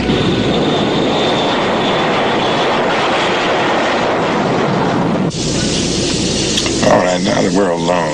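A jet aircraft engine roars steadily and loudly throughout, a dense continuous rumble and whine that shifts character partway through, with no clear voices over it.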